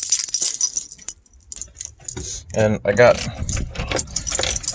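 Keys jangle loudly and close as a set is pulled out in a garage with motorcycles and a pickup, bright metallic clinking in a few bursts while someone briefly speaks.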